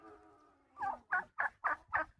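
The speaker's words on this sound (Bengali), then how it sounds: "এই যে টার্কি মুরগি, এইগুলো হচ্ছে টার্কি মুরগি" Turkeys on a date farm in Saudi Arabia gobble in a run of five loud, rapid bursts close to the microphone, following a low steady hum.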